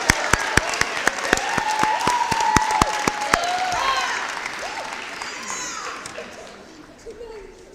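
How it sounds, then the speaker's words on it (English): An audience applauds seniors at a high school awards ceremony, sharp individual claps at first under children's chatter and voices, then the clapping thins and fades into general crowd murmur. "How about a round of applause for all of our super seniors here that got scholarships, academic awards."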